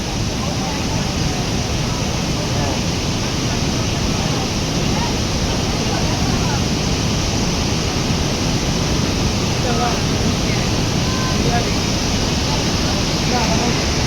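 A waterfall in Quebec City pours in a steady, dense roar that holds even and continuous from start to finish.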